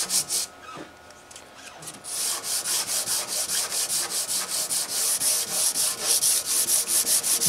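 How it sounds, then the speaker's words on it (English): A twisted-neck Guild D-55 acoustic guitar rubbed with 600 grit sandpaper, a close, rhythmic back-and-forth hissing scratch in steady strokes after a couple of softer opening passes, with no talk. "This is 600 grit. This is almost just polishing it up."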